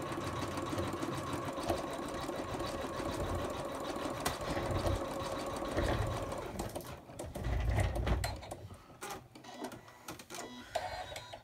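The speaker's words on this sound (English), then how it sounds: "going to do a zigzag to really hold that fabric down" An embroidery sewing machine stitches a zigzag around fabric, a fast steady mechanical whir with rapid needle clatter close by, which slows and breaks into a few separate clicks and stops near the end.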